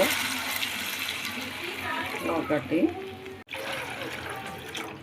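Water pours steadily from a glass into a pan with a continuous splashing rush, while a voice speaks briefly over it; the pouring stops abruptly partway through.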